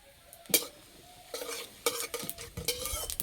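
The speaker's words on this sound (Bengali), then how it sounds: "জিরে ভাজা হয়ে গেছে, খুব সুন্দর একটা গন্ধ বেরিয়েছে।" Whole cumin seeds and dried red chillies fry in mustard oil in a karahi, with quiet sizzling broken by several sharp scrapes and clinks of a spatula stirring against the metal pan.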